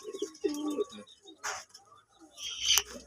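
A pigeon hen coos in a few low, throaty phrases close by, with brief chirps and rustling between them.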